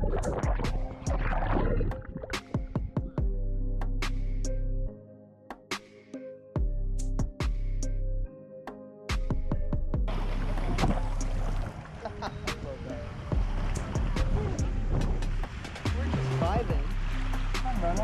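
Rushing water on the Runoff Rapids water slide at Disney's Blizzard Beach water park, a continuous loud churning wash that surges and dips, with people talking over it throughout.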